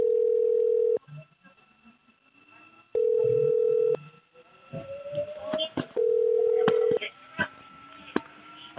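Telephone line tones as a call is transferred to an election information center in Korea: three steady, fairly loud tones of about a second each, evenly spaced, with faint background noise and murmuring in the gaps.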